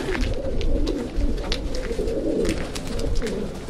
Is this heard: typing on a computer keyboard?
no